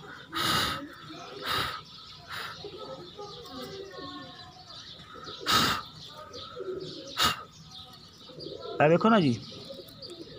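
Pigeons at a breeder's loft give soft cooing calls, with several louder bursts of wing flaps or clatter. The calls sit under steady nearby talk, and a clearer coo comes near the end.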